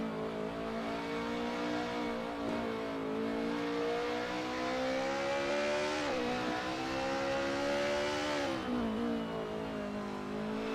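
Race cars on a time attack run in the video game Touge Battlegrounds, a continuous engine drone rising and falling through gear shifts, moderately loud, with no talk.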